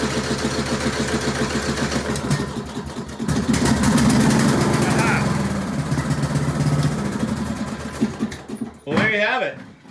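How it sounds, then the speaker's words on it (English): A lawn tractor engine, jump-started with a Harbor Freight Viking jump starter power pack, cranks over and settles into a loud, steady running drone. It cuts off abruptly near the end as a voice briefly speaks. "The Viking Jump Starter Power Pack will crank over a lawn tractor just about immediately."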